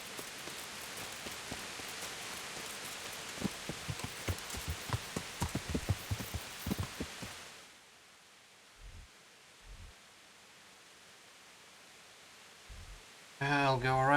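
Rain in the medieval video game Kingdom Come: Deliverance, a steady hiss of falling rain with footsteps or hoofbeats pattering over it for several seconds before it suddenly drops to near silence, followed by a few soft thumps and a brief burst of sound at the end.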